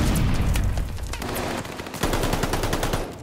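Gunfire around the hardpoint in Call of Duty Vanguard: loud, continuous automatic fire with rapid repeated shots, several weapons overlapping in dense bursts from start to finish.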